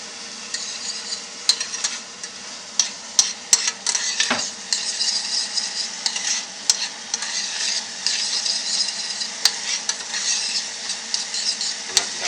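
Pork frying over high heat in a hot pan, with a steady sizzle broken by frequent sharp pops and the clink of a utensil stirring against the pan, close and without speech.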